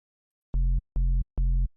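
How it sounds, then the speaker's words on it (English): A synthesized sine-wave bass in FL Studio, made for a dancefloor drum and bass track, plays three short identical sustained notes with brief gaps between them, clean and alone. "We're going to create a sine wave, but we're going to edit it."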